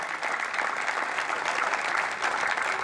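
An audience at an all-India kavi sammelan and mushaira at IIT Jodhpur gives sustained, dense applause, a steady wash of many hands clapping together without a pause.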